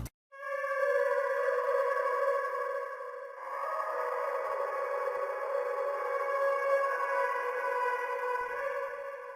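A sustained, synthetic-sounding vocal note hums steadily, dropping slightly in pitch partway through and holding to the end, with no talking.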